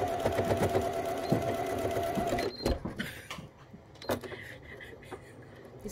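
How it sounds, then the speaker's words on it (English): Close up, a home sewing machine runs in a quick burst while back stitching a seam on a face mask lining, then stops, followed by softer handling clicks and rustles. "I'll just do a bit of a back stitch because this will hold this one"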